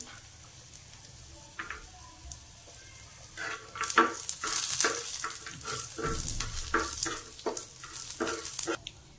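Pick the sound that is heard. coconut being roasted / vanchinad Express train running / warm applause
coconut being roasted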